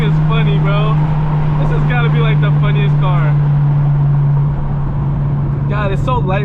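Loud Honda Civic Si K20 engine pulling hard, a close, steady, droning engine tone heard from inside the cabin under excited talking, easing off toward the end.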